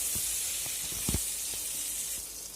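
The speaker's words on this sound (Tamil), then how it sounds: "இப்போது இது கொஞ்சம் ஃப்ரை ஆகிட்டு இருக்கட்டும்." Brinjal frying in oil in a pan, a steady close hiss with a few soft bubbling pops and light crackles throughout.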